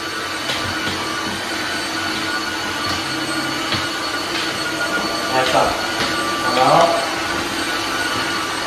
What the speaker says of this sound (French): je passe l'aspirateur et la serpillière